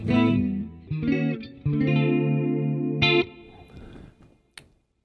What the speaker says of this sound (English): It's a chorus.